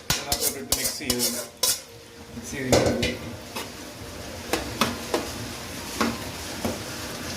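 Roasted semolina for uppumavu is mixed in a metal pan at a roadside Kerala food stall, with a spoon scraping and knocking against the pan in irregular strokes. Clattering dishes and a voice sound in the background.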